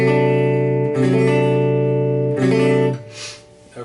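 A D dominant seventh guitar chord is strummed and left to ring, restruck a couple of times, then fades out as the strings are muted.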